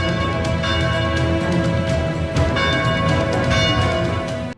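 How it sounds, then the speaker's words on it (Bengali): A fort bell rings loudly and continuously, its sustained metallic tones layered with overlapping strikes and a dense, ringing wash throughout. "এমন সময় কেল্লায় ঘণ্টা বাজার শব্দ হয়।"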